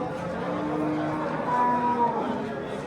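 A cow at a Yangiqurgon cattle market gives a long, low moo, close and steady, with faint market murmur underneath.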